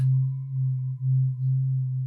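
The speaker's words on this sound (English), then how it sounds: "This is the sine wave" A steady, pure low tone hums continuously, smooth and unwavering, with slight dips in loudness.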